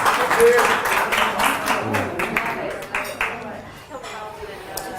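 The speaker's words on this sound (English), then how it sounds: "Give yourself a round of applause" Audience applause at an Islamic talk on hip hop, a dense wash of clapping that starts strong and tapers slightly over five seconds, with voices mixed in.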